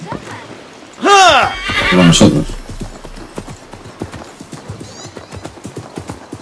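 Horse in Assassin's Creed Mirage gives two loud whinnies near the start, followed by steady clip-clopping hooves that continue in an even rhythm while a person talks over the game.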